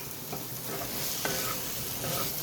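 Red chilli and spices sauté in a pan, a steady close sizzle with a few soft stirring scrapes, no voices.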